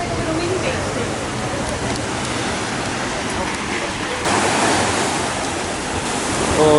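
Rough ocean waves crash onto a cliff-ringed beach in the Algarve, Portugal, a continuous loud roar of surf with wind-like hiss throughout.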